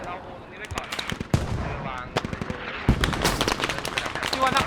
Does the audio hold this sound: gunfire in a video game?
yes